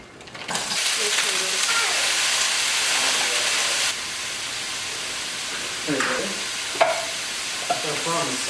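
Corn and vegetables fry in a pan with a loud, steady hiss and sizzle, broken by a few stirring clatters. Voices talk briefly near the end.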